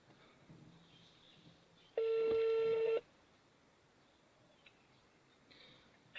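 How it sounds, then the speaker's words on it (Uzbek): A phone keypad sounds one long dial tone for about a second while a taxi driver places a call to a customer. The tone is clear and steady, set against a quiet background with faint room noise. "telefon qilib gaplashib ko'ramiz"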